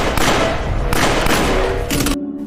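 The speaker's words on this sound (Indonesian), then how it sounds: "Untung Reed berhasil menembak Preston." Gunshots in a film scene, a rapid burst of loud, close blasts in quick succession with sharp booming impacts, ending abruptly.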